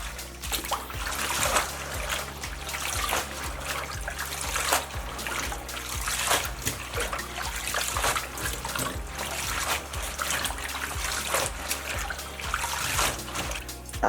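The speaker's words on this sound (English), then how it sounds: "this is how I wash my vegetables. I submerge and bring it up, submerge and bring it up." Collard greens are repeatedly plunged into and lifted out of a bowl of water, making continuous close sloshing, splashing and dripping with rhythmic surges.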